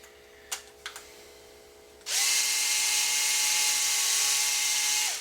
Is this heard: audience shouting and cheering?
no